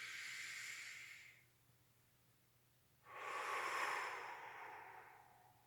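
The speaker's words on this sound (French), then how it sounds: "Une inspiration." A person breathes during a slow neck-and-eye exercise for healthy ageing: an airy exhale trails off, a quiet pause follows, then a longer, louder breath swells and fades, soft and close with no speech.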